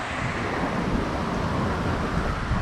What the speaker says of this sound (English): look at that wind. I think it's 35 miles per hour gust.